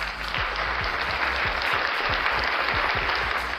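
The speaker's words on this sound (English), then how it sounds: "Thank you to the fake studio audience for that applause." Canned studio-audience applause for a comedy news show broadcast from Las Vegas, a dense, steady wash of clapping that runs loud and unbroken throughout, with no voices over it.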